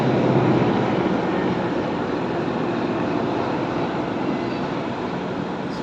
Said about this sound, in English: sorry, the sound of a helicopter.